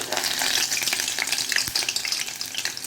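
Sauce hitting hot oil while cooking beans sets off a loud, dense sizzle and crackle that holds steady throughout, with small spits and pops and no voices.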